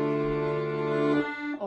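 Accordion sounding a sustained mournful chord, rich and reedy, held for over a second before shifting and fading out, played alone and close.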